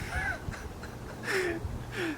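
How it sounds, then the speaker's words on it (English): A few harsh crow caws ring out at a moderate distance, spaced irregularly over a quiet backyard background in San Diego. "The only thing that you can hear is the birds."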